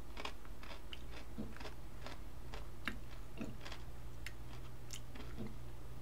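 Beer-flavored potato chips crunched and chewed close to the mouth, a series of sharp, irregular bites and crackles over a steady low hum, with no talking.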